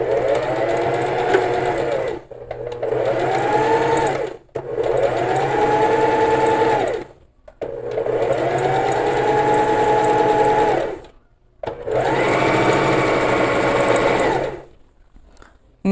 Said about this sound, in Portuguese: vou passando a costura que já a agulha já está posicionada e vou puxando um pouquinho